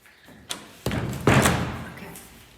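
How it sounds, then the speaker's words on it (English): Indoors in an Art Deco house in a small Umbrian village, a door is pushed shut with a close thump and rattling closure, preceded by a brief knock and shuffle. "close the door one moment."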